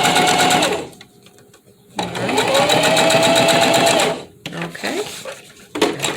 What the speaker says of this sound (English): And now we're going to sew it.